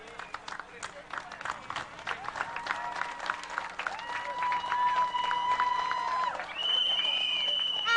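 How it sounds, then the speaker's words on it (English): Outdoor crowd at a Belize band festival field presentation claps and cheers, scattered and fairly distant, with voices, whistles and tonal sounds mixed in. "So I want you to give our young people a big round of applause today."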